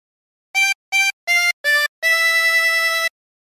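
A 24-hole tremolo harmonica plays a Jingle Bells phrase: four short separate reedy notes, then one longer held note, bright and close, with a wavering tremolo shimmer and no voices.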